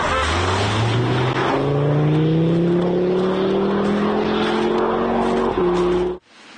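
A car engine roars past close by on a slippery, dangerous highway, its tone rising steadily as it accelerates, loud and continuous before cutting off abruptly.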